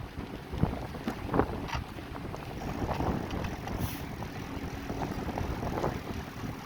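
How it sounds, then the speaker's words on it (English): Steady wind buffets the microphone with a continuous low rumble and gusting roar at ground level on Fort Myers Beach, no voices. "it's windy here at ground level"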